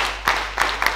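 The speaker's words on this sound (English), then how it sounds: "A sound clap, another one, another bigger one." Children at a child protection conference clapping together in a few short, sharp bursts of applause, each one quick and close.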